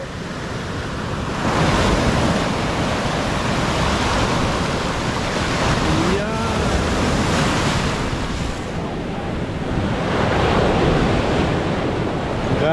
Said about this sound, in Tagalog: Grabe ang alon ngayon.